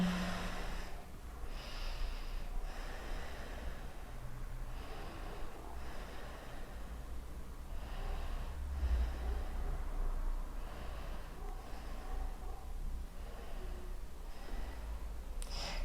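Steady breathing during a yoga balance pose, soft inhales and exhales repeating every couple of seconds close to the listener over a quiet room, with no talking.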